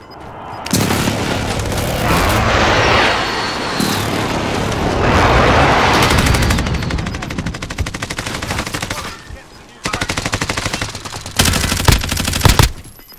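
Rapid automatic gunfire from Call of Duty Modern Warfare, dense loud bursts and booming shots filling the first ten seconds, a brief lull, then more sharp volleys toward the end.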